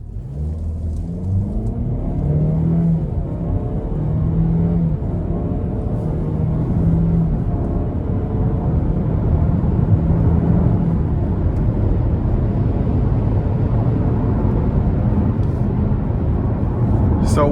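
A 2026 Buick Envision Preferred AWD gives a moderate push of throttle to merge, its engine a steady low drone and rumble with road noise filling the cabin throughout, heard from inside.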